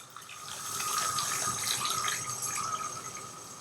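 Water pours steadily into a pot of rice for Persian rice, a continuous close splashing gush with no speech.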